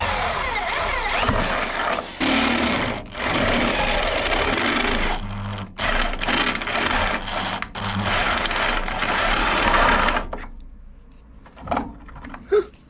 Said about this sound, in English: just use the step drill